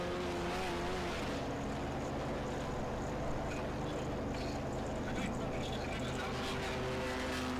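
Race cars in a Polo Cup India one-make series race, engines roaring steadily at high speed, loud and continuous with a broadcast commentator talking over the top.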